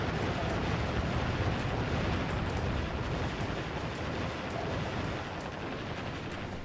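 Wave gun blast in the naval combat video game Warship Gunner 2, heard as a sustained, dense roaring rumble of explosions and gunfire at moderate level, continuous and unbroken before easing slightly near the end.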